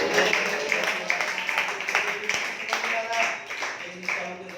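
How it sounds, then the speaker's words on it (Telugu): A church congregation at a Sunday service claps along with music and voices, the clapping steady and moderately loud throughout. "ఇసాకు భార్యని ధైర్యపరిచి చప్పట్లు కొట్టి దేవునికి స్తోత్రం చెప్పండి."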